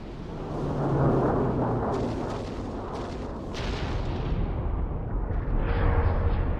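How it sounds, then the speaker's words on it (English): Frigate cannons firing in Halo 3, a series of heavy, muffled booms that roll into a sustained low rumble, loud but dull, with no talk over them. "that was the sound of the frigates firing"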